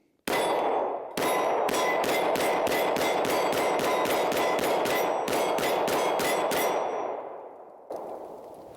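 Rapid semi-automatic fire from a Canik TTI Combat pistol: one lead-in shot, then a fast, steady string of about twenty loud, sharp cracks, a brief pause partway through, and the rounds ringing out into a fading tail.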